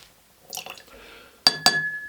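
Water added to a glass of Glenglassaugh Sandend single malt whisky: a soft pour trickles for a moment, then two sharp glassy clinks ring out close by over a quiet room.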